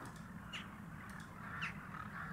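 Distant crows caw a few times in the horror game Darkness Under My Bed, short faint calls spaced over a steady low ambient rumble with no talking.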